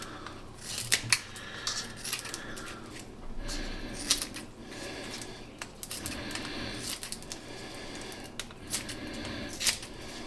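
Snipping off the ends of material while assembling a 4S 18650 lithium battery pack for an RC plane, with a series of crisp scissor-like snips and clicks, close and fairly quiet, no talking.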